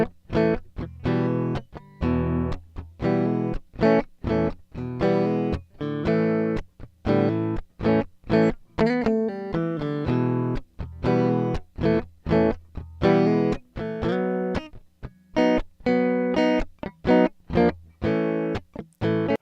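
Distorted electric guitar recorded through an iRig Pro DUO interface and played back, with rhythmic chugging chords and riffs cutting on and off, loud and steady throughout with no talking.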